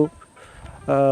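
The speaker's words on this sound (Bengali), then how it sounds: "পাখির ডাক শোনা যাচ্ছে" Birds, including a fowl's clucking calls, sound in a quiet green riverside village, with short harmonic calls at the start and end around a calm pause.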